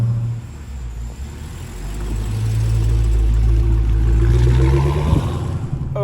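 A Dodge Hellcat V8 idles loudly after a cold start, a deep steady rumble that swells and holds high before a brief rev near the end, with no talking.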